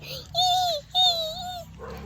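A puppy whimpers and yips in two drawn-out, high rising-and-falling whines, close and clear, with a softer whimper trailing after.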